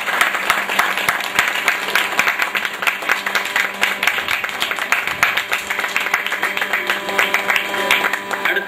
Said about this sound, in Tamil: எல்லோரும் கரகோஷம் செய்யும்படி மிக தாழ்வுடன் கேட்டுக்கொள்கிறேன்